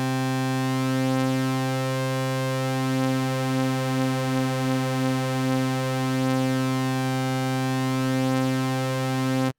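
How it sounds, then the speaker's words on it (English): A Synthmaster 3 synthesizer holds a bright, buzzy sustained tone in octaves while the oscillator drift increases, producing a gentle wavering and beating in the harmonics over roughly ten seconds, with no voice present. "So sometimes just adding a little bit of oscillator drift can really make your patches sound a little bit more organic."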